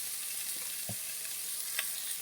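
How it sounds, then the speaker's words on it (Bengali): Potatoes frying in fish oil left from frying fish, seasoned with salt and turmeric, give a steady broadband sizzle with a couple of brief scrape or stir clicks; no one speaks. "আলুটাকে লাল লাল করে ভেজে নিয়েছি"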